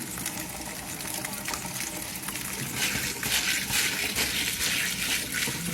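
Running water gushes steadily over dry beans being washed in a kitchen before pressure canning, a fairly quiet, continuous splash that grows slightly louder toward the end.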